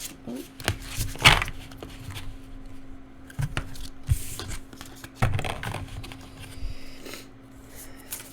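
Tarot cards being shuffled close by in several bursts of riffling and slapping, with pauses between and occasional soft handling noises.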